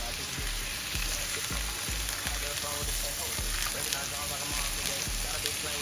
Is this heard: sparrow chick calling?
no